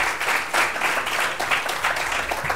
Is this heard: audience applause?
yes